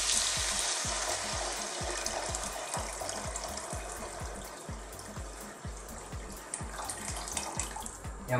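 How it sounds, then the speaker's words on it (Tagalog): Water is poured into a simmering mung bean stew with smoked fish, a steady close pouring and bubbling hiss with rapid irregular spattering, no voices. "So maglalagay na po tayo ng ating tubig."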